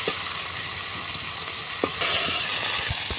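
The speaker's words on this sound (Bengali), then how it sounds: "তারপরে আমার মাছগুলো ভাজা হয়ে যাবে।" Fish frying in a pan makes a constant, close, dense sizzle with faint crackles and a light stir or two, no voices.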